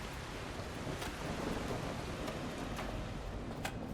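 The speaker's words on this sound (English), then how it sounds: "The storms are getting a little bit heavier." Heavy rain pours steadily through a thunderstorm in the video game The Last Caretaker, with several sharp thunder cracks breaking over the constant hiss, and no talking.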